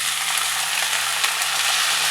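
Onions with coriander leaves and tomatoes sizzling steadily in a pan for a South Indian tomato chutney, a close, continuous broadband frying hiss with no talk.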